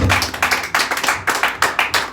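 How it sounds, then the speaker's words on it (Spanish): Congregation clapping in a church service, a steady rhythmic run of hand claps at a quick even beat, moderately loud and close with no talk. "Denle palmas al Señor."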